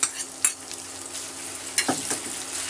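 Ginger garlic paste and curry leaves sizzle steadily in hot oil in a pan for palak amti, with a continuous crackling hiss broken by a few sharp spatula stirs and scrapes, close and fairly loud, no talking.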